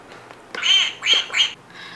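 Three quick nasal duck quacks in a row, fairly close, with a short pause between each and no talking.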